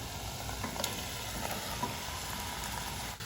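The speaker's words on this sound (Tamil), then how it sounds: "இப்போ இந்த ஸ்டேஜில் நான் மேரினேட் பண்ணி வச்சுருக்கிற அந்த சிக்கனையும் நான் சேர்த்துக்கிறேங்க" Marinated chicken for an Andhra-style biryani sizzling in a hot pan, a steady close hiss of frying with a few faint stirring knocks.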